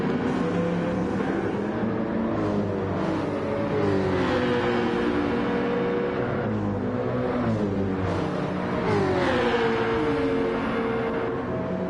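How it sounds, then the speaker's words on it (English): Race cars in a racing video game at Suzuka, several engines roaring together with rising and falling revs as they shift gears, loud and continuous throughout. "So we have 5 cars right with each other"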